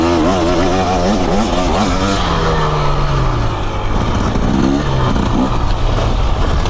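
A dirt bike engine revs hard while being ridden, its loud rising and falling whine climbing through the gears, close and continuous with wind rush.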